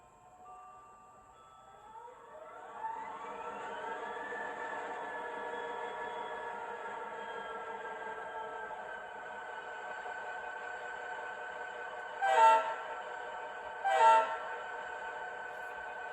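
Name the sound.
model train locomotive sound system with horn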